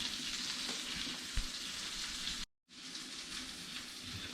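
Smoked venison sausage fries in Kerrygold butter in a skillet, giving a steady hissing crackle throughout, broken only by a brief moment of silence partway through.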